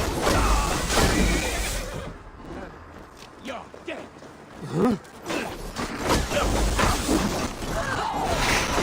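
A horse neighs in the Assassin's Creed Valhalla game at a heavily guarded night location, with whinnying bursts mid-clip amid background ambience and some voice-like sounds, with louder rumbling at the start and end.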